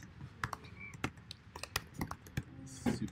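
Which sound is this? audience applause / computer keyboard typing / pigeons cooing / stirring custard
computer keyboard typing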